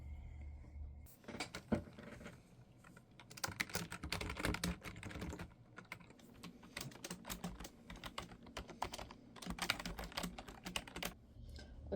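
Steady computer keyboard typing during a twenty-minute timed writing sprint, with dense, irregular clatter of keystrokes running throughout at close range and a few brief pauses.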